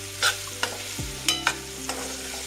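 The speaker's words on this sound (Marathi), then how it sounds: "ही चांगली आपल्याला याच्यामध्ये फ्राय करून घ्यायची आहे।" Chopped raw mango pieces are stirred and fried in a pan, with a soft steady sizzle punctuated by several sharp scrapes and clinks of the spoon against the pan, close and fairly quiet.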